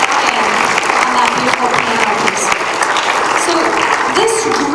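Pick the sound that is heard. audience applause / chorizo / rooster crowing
audience applause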